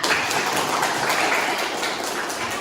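Steady applause from a class during a Catholic religious education lesson fills the whole stretch, a dense wash of many hands clapping at an even level with no voices.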